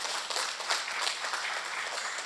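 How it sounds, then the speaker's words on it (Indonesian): A congregation at a Sunday church service claps for the ministry team, a short, moderately faint burst of dense applause with no pause. "tepuk tangan dong buat tim pelayanan"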